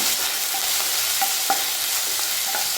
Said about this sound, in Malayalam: നമുക്ക് എണ്ണ ചൂടായിട്ടുണ്ട് നമുക്ക് ഇഞ്ചിയും വെളുത്തുള്ളിയും ഇട്ട് കൊടുക്കാം